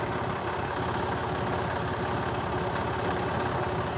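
A tractor engine runs steadily at idle, a constant low rumbling drone that stays close and even throughout with no other sounds.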